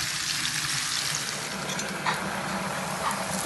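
Fish sizzles in hot oil in a pan, a steady, close frying hiss with a faint clink or two, heard on its own without any talk.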